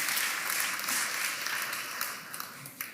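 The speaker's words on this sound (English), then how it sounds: "I'd ask you to give the Deputy High Commissioner a round of applause." A conference audience applauds after a talk on UK-India trade and partnership, giving a steady, moderately loud round of clapping that fills the room and tapers slightly toward the end.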